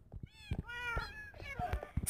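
A cartoonish cat meows several times in a Minecraft-style creative-mode video game, short bright mews in a quick irregular series, close and clear, with game sounds around them.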